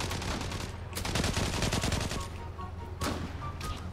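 Gunfire from the Gallipoli battle in the Turkish shooter game Zula: dense rapid bursts of automatic fire, fairly loud and continuous, with a few sharper single shots near the end.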